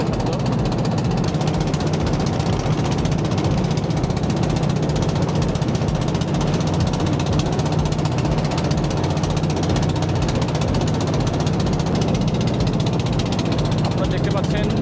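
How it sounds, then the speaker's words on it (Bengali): Trawler boat engine on the Padma river, a loud continuous droning machine rumble that fills the whole stretch, close and unbroken, with faint water and wind noise beneath it. "প্রচুর শব্দ ট্রলারের, মেশিনের শব্দ।"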